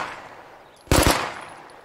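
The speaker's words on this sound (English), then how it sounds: "the PPK Sleeper Cell version has the burst mode" A PPK Sleeper Cell pistol in State of Decay 2 fires a single quick burst of three sharp, loud shots close by, ringing out briefly afterward.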